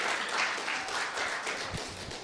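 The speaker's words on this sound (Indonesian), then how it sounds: "boleh tepuk tangan buat ya." An audience at a church talk applauds, a dense wash of clapping heard from inside the hall for a couple of seconds.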